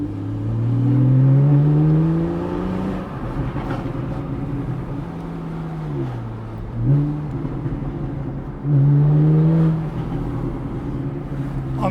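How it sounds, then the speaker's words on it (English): A Porsche 911 Targa 4S engine on the road rises and falls through gears, with revving sweeps and shifts under a low cabin rumble, plus a brief voice between the pulls. "it's fantastic the way the car sounds"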